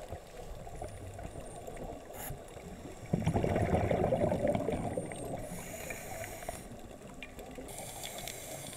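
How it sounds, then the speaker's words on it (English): A steady underwater hiss and gurgle of small bubbles streaming from an Oki scuba regulator at The Keyhole off Shelly Beach, Caloundra, swelling louder midway, with no talking. "you can hear a steady stream of bubbles, just small bubbles, coming out of my Oki regulator"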